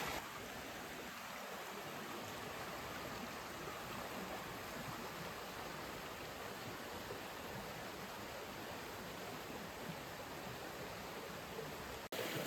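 A stream runs some distance below in woodland, a faint, steady broadband rush of flowing water with no other sounds.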